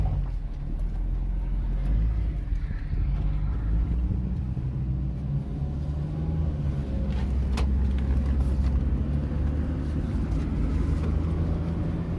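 A Nissan March driven through tall grass gives a continuous low engine rumble and road-like drone, close and steady, with faint brushing and rustle on top and no talk.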